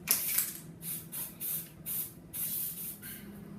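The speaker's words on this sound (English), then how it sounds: "So we're gonna spray these to make them gold colored like this." An aerosol can sprays gold paint over cake pops in a quick run of about eight rapid hissing bursts, close and fairly loud, with no talking.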